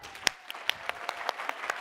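An audience claps for a speaker, with a few sharp, evenly spaced claps standing out over softer scattered clapping. The clapping is fairly quiet and brief.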